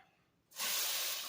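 Shrimp hitting a hot pan with a sudden loud, steady sizzle that starts after a quiet moment and keeps going, close and alone.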